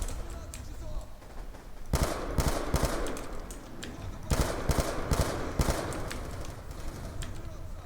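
Bursts of automatic gunfire from below in Call of Duty Black Ops 2, played on the Veteran difficulty, come as repeated sharp volleys at close range over a steady rumbling background, with a voice speaking at times between them.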